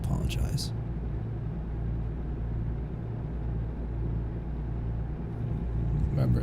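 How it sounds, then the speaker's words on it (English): Truck engine droning steadily while driving, a constant low rumble close and loud throughout, with a few brief clatters at the start and end, and no clear talk. "because of how loud the truck is"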